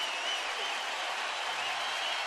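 A baseball stadium crowd of more than 21,000 roars in the 8th inning with two outs, a dense, steady wall of cheering that stays loud and continuous throughout, with no voices standing out from it.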